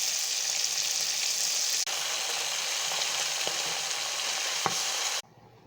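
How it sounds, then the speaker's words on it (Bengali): Mirka fish sizzles steadily in a frying pan, a dense close hiss holding for about five seconds with a couple of soft clicks before cutting to near silence. "আমার মিরকা ফিশটা কত সুন্দর ফ্রাই হচ্ছে"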